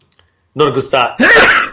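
A person sneezes loudly and close by in a single burst at the end, just after a short stretch of someone talking.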